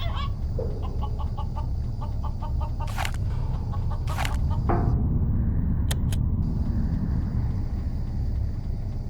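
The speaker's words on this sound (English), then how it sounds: "The rifle shot scares the rooster that Michel Ardon had hidden in the shell." A frightened rooster squawks in the adventure game Voyage: Journey to the Center of the Moon, with sharp clucking cries and a few bursts over a constant low rumble.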